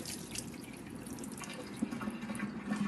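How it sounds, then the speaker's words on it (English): Water drains out of soaked, shredded compost bedding in an apartment vermicompost bin, a close, steady trickle with light dripping that runs on without pause and has no talk over it. "now if I just drain the water out"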